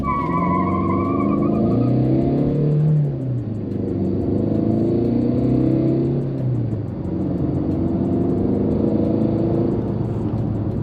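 A Tata Nexon diesel SUV in sports mode accelerates hard from a launch, its engine note rising loud and rough, dipping briefly at a gear change, then building again with a heavy continuous rumble and no talk.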